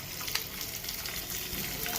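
Curry leaves sizzle in hot tempering oil for a potato vada sandwich dhokla, giving a steady, close crackling hiss with small pops throughout.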